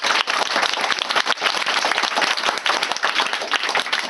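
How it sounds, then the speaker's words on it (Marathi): Schoolchildren clap loudly in unison for their teachers, producing a dense, close roar of applause that holds steady throughout with quick rhythmic surges. "यांच्या नावानं जोरात टाळ्या झाल्या पाहिजे."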